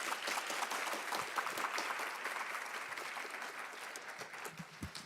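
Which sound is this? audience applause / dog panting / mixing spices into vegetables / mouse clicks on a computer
audience applause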